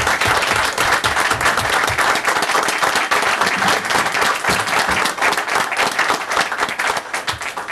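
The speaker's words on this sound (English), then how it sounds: "How about a round of applause for that?" Loud, sustained audience applause at a village board meeting, many people clapping steadily at close range with a thick, even texture that tapers slightly in the final second.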